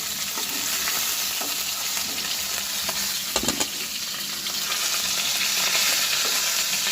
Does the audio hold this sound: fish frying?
yes